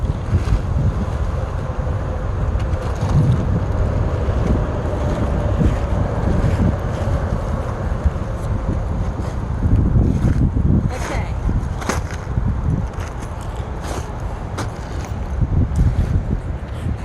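Wind gusts buffet the microphone at a KOA campground in Statesville during car camping, a steady rough rumble that swells and eases, with faint voices heard underneath.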